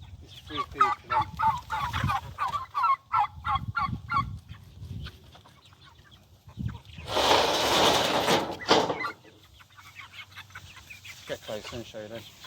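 Geese and chickens on a UK homestead are being fed waste apple pulp, with clucking and honking calls heard near and intermittent between stretches of talk, plus a burst of noisy rustling midway.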